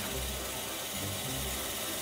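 A LEGO Technic electric motor drives a belt-powered elevator lift, giving a steady low mechanical whir with faint ratcheting gear clicks, continuous and close throughout.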